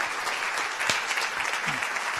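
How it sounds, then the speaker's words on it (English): A book-signing audience gives a brief standing ovation, dense clapping at moderate volume with a faint voice briefly audible partway through. "Oh, standing applause."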